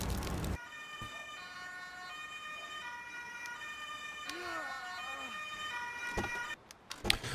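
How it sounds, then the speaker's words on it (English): Ambulance siren in the Emergency 5 game, Hamburg scenario, its wailing tone sweeping up and down at moderate distance over low street ambience, with a few brief louder bumps near the end. "as you can hear, ambulance is just around the corner"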